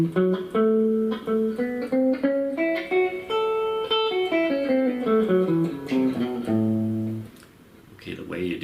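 A guitar blues lick in the major pentatonic scale with a passing tone, a run of single picked and slid notes climbing then falling before a low held note, close and clean.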